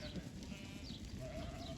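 A flock of sheep bleating, several overlapping faint calls spread out at a distance over steady outdoor background noise.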